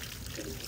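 Warm water pours in a steady, soft trickle for a brief moment, faint and continuous with no talking over it.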